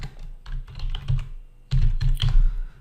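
Fast typing on a computer keyboard while working in SketchUp, two bursts of close, loud clacking keystrokes separated by a short pause, with no voice.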